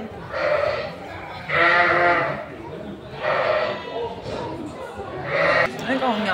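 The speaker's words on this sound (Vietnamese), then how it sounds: "Ở đây mới là dê đây nè. Là dê núi đó cả nhà" Long-horned mountain goats on a farm in rural Germany bleat loudly and close by, four drawn-out calls spaced a second or so apart.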